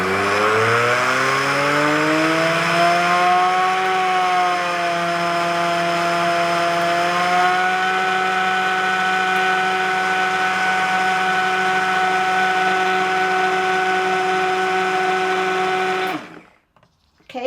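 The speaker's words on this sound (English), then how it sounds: "I don't like to burp my stick blender in my crock pot." A stick blender whirs steadily in a crock pot of liquid soap, its pitch rising as it spins up and then holding a constant loud drone before cutting off abruptly near the end.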